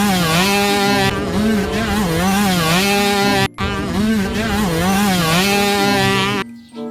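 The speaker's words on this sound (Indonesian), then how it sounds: "motor cross." Revving motocross motorcycle engine, loud and close, with a wavering, rising and falling pitch that surges twice before cutting off near the end.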